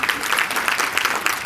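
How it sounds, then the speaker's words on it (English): Keynote audience at an annual meeting applauding steadily, a dense wash of many hands clapping in a hall, loud and continuous with no break and no voices on top. "the rest of you should clap as well"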